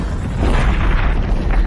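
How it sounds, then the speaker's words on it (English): A laser cannon fires in an alien-invasion story, a loud, sustained booming blast with a deep rumble that fills the whole moment. "they fired the laser cannon"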